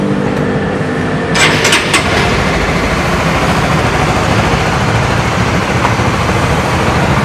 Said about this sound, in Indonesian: Ini kondisi suara mesin unit yang dijual di Antara Motor.